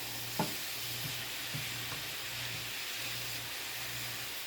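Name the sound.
julienned zucchini frying in oil in a pan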